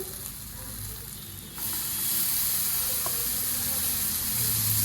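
Tomatoes added to golden-fried onions in a pan for a Telugu amaranth leaf and moong dal curry, a soft sizzle that jumps to a louder, steady hiss partway through, with no speech.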